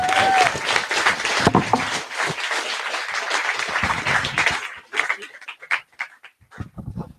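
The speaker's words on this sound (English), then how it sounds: "Give him a round of applause." Live talk audience applauding for the next speaker, loud dense clapping for about four seconds that then thins into scattered individual claps and fades.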